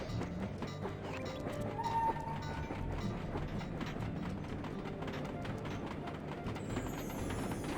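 A video game train rumbles along with rhythmic clickety-clack of wheels on rails, steady and moderately loud, with a brief tonal whistle partway through.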